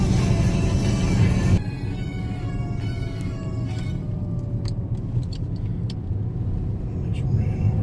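A car drives over small flaps in the road, with a loud, close rumbling burst in the first second and a half, then a steadier engine and road drone with a few faint clicks.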